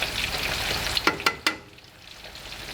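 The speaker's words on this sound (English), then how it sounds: "as soon as the oil is hot, we can start frying." Flour-coated eggplant slices fry in hot oil, a steady close crackling sizzle broken by a few sharp pops and clatters as pieces go in, then settling back to an even hiss.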